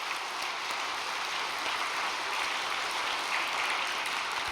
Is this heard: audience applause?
yes